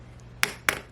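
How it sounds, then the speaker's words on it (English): Pliers tap a sofa frame during reupholstering, making two quick, sharp metallic knocks about a quarter second apart. They are close and crisp, with a quiet room behind them. "I'm just going to tap it with my pliers and open it up"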